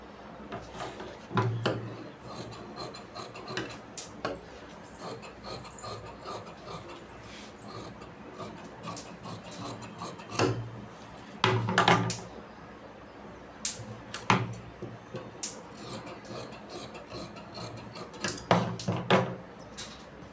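Scissors cut through chudidar top fabric with sporadic snips and sharp clicks of the blades, close and moderately loud, separated by quieter stretches of handling.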